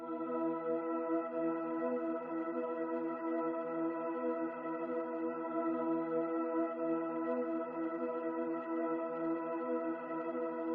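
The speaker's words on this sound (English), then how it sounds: "Now for the third ambience, it's a pad that sounds like this." A soft, steady synth pad with a choir-like tone, holding a sustained chord with a washy reverberant feel, quiet and unchanging throughout.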